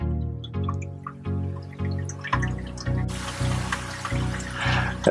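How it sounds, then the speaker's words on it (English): A Tunze 9410 DC protein skimmer runs in the sump of a Red Sea Reefer 350 reef tank, giving a close, steady pump hum under constant trickling and dripping water. "This is the Tunzi DC 9410 skimmer."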